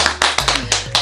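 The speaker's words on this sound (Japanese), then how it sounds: "この案に賛成の方拍手を持って同意ください" A few family members clap their hands together in a hotel room, several separate bursts of close, sharp claps spread across about a second.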